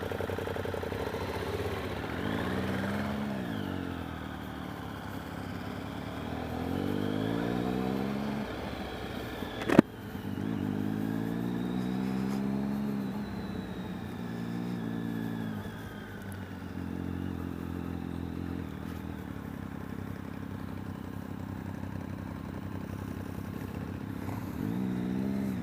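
A 2013 Triumph Speed Triple motorcycle on a test ride, its engine droning steadily and rising and falling through the gears, with a sharp knock partway through and wind noise throughout.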